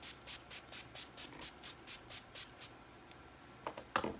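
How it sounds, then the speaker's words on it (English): NYX Dewy Finish setting spray is spritzed over a face, about ten short, evenly spaced pump sprays in a steady rhythm, close and soft. A few brief rustling and handling sounds follow at the end. "this is a NYX Dewy Finish setting spray. I'm gonna give myself a good spritz all over."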